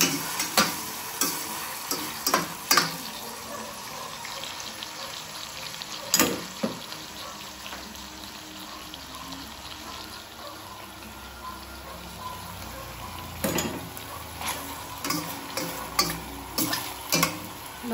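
Salmon pieces are lifted from a pot of simmering sinigang soup in miso, giving soft intermittent liquid clinks and stirring sounds over a low bubbling simmer, close by with scattered louder taps.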